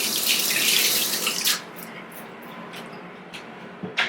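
Tap water runs loudly from a kitchen faucet into a sink, then the stream drops off and gives way to a few scattered splashes and clinks.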